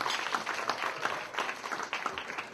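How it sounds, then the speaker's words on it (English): Applause from an audience, a dense continuous patter of many hands clapping at fairly even loudness throughout, heard from within the crowd. "give yourselves a round of applause"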